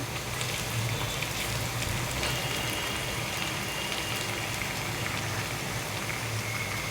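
Bay leaves hissing and sizzling in hot oil, with onions already softening in the pan, while a fish curry is cooked. A steady, dense crackle runs unbroken and close throughout.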